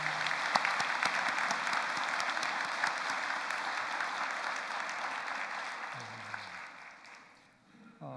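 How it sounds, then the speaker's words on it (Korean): A church congregation gives a sustained round of applause for a professor during a service, dense clapping filling the hall before fading out near the end. "우리 큰 박수를 보내주시기 바랍니다."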